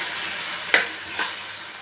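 A ground paste sautés in a pan for paneer butter masala, giving a steady soft sizzle with two brief scraping stirs, the first sharper than the second.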